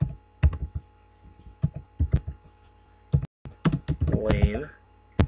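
Fingers tap on a computer keyboard in uneven bursts of clicks, close and clear, with a person speaking over part of it.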